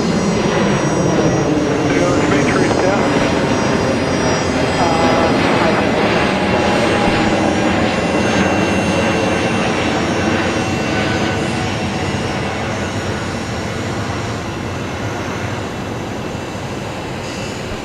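An airliner makes a full-length runway departure at Brisbane Airport, a sustained loud jet roar that holds steady and slowly eases off over many seconds.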